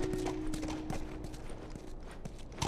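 Horse hooves clip-clop in a steady walking rhythm in The Last of Us Remastered, close and clear, with a low game hum running underneath.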